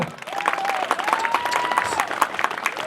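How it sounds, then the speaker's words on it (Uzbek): Audience applause at a school pledge ceremony for Alpomish school pupils, steady dense clapping throughout with a faint whistle-like tone above it. "Olqishlab qo'yamiz albatta."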